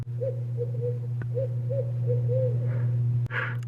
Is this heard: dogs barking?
no